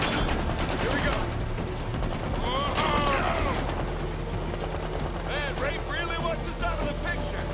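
Gunfire in the video game Uncharted 4 crackles in scattered bursts under steady game ambience and character dialogue, with several sharp reports clustered in the middle and later parts.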